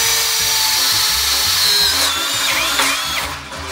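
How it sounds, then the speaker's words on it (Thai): A power drill drives screws into steel on the frame of a steel loft sliding door. It whines loudly and steadily, then its pitch dips and strains near the end. "เจาะเหล็กนะยิงเข้าไปแบบนี้ไว้ก่อนเลย"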